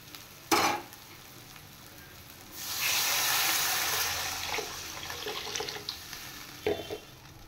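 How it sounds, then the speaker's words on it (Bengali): Water pours into a pan of fried spice masala, already cooked down until the oil separates, for a katla fish curry: after a short clatter, a loud hissing burst swells, then eases into softer bubbling sizzle, with one more knock near the end. "মশলা কষানো হয়ে গেছে, তেল ছেড়ে দিয়েছে। এবার আমি জল দিয়ে দেব।"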